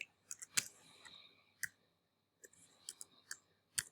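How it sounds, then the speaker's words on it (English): Keys on a computer keyboard tapped in short quick bursts, a few sharp close clicks with pauses between, quiet and alone. "if I type Scotland in"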